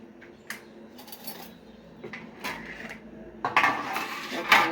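A knife cuts raw mango on a hard surface, giving irregular sharp taps and clinks that grow busier and louder toward the end.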